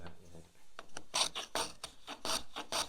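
A hand plane shaving wood in quick rasping strokes, around eight passes, close by, quiet at first then steady and crisp, with no talking.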